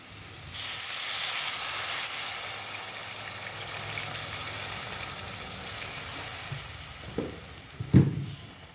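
Water poured into a hot pan of potato curry with chana dal fritters sets off a loud hiss. The hiss settles into a steady sizzle, broken by a couple of close utensil clacks near the end.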